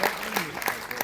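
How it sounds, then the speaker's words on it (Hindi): Brief burst of audience applause at an organisation's website unveiling ceremony, dense clapping from a crowd lasting about a second, with a voice speaking under it. "जोरदार तालियों के साथ समाज को समर्पित हमारा"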